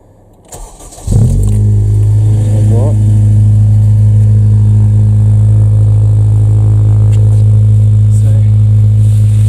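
Honda Civic Type R with a K20 engine and M2 cat-back exhaust cranks and fires, then settles into a loud, steady idle with a deep exhaust drone held close up.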